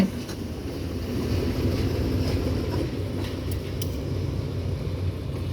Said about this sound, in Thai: หัวดีเซลคันนี้ก็จะเป็น GA ค่ะ เครื่องยนต์ 16 สูบ เป็นแบบคัมมิน